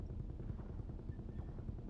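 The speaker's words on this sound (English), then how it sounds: "I swear that's a helicopter I'm hearing." Helicopter in the ICED survival video game, a steady low rotor thrum with faint rhythmic chopping that stays fairly constant throughout, heard alone without voices.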